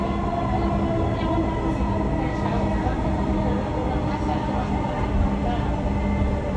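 A metro train runs toward Uttara North with a steady, loud rumble and rail noise heard from inside the car. An onboard announcement voice speaks over it.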